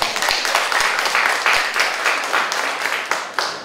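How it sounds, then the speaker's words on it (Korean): Crowd applause at the opening ceremony of the sixth Songnaro autumn festival, with sustained, loud, even clapping from many people filling the whole stretch. "박수 한번 주십시오"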